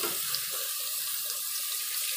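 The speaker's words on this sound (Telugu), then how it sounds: "సో మనం వాటర్ యాడ్ చేసేసుకుందాం." Water runs steadily into a cooking pot while vegetable pulao is being made, a continuous close splashing pour with no talk.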